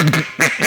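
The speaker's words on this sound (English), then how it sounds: "this particular one is a rich and tone duck call" A handheld duck call blown in two short, loud, nasal quacks, raspy and close, separated by a brief pause.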